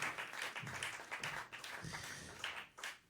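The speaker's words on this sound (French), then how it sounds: "On les applaudit bien fort." A concert audience claps at an intimate show, a moderate burst of scattered, uneven clapping that swells and thins, with a brief pause near the end.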